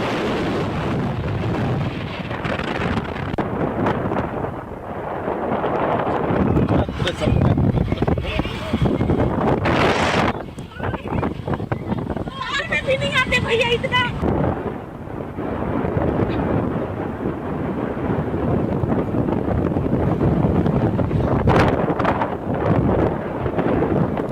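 Strong winds sweep through the Gaurela-Pendra-Marwahi area as the weather turns stormy. Loud, blustery gusts roar and buffet the microphone almost continuously, rising and easing, with voices talking over them.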